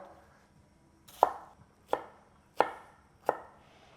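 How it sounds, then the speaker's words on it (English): A knife slices through Roma tomatoes on a cutting board in four evenly spaced, crisp chops, close up and clear against a quiet kitchen background. "We're actually gonna cut these Roma tomatoes basically the same way we just did with the cucumbers."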